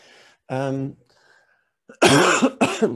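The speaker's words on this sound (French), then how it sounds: "Excusez-moi, j'ai toujours une petite toux." A voice speaks, then after a pause comes a loud, harsh cough followed by a second shorter one, close to the microphone.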